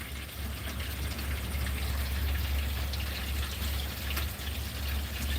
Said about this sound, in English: Yeah, I love rain sounds too.